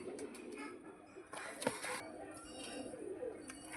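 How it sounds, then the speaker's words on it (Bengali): A top-class pigeon gives soft, low coos, faint and close, with light rustling and a few brief background noises. "একদম টপ ক্লাস পায়রা আছে"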